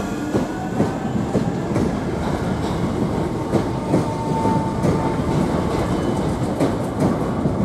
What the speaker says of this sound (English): There goes our train, we went on.